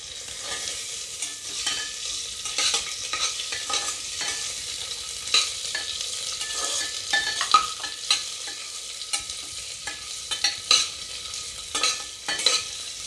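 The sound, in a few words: onion and green chillies frying in a pan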